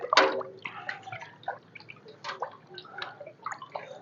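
Fungicide mixture being shaken in water while repotting an Adenium plant gives soft, irregular sloshing and dripping splashes, fairly faint and close, with no talk.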